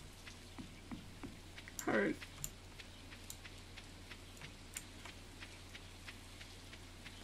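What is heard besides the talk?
rain falling in Stardew Valley video game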